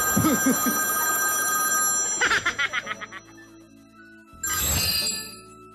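A mobile phone rings from inside a bag in a rapid trilling burst, pauses, then rings again, slightly muffled, alone with no voices over it.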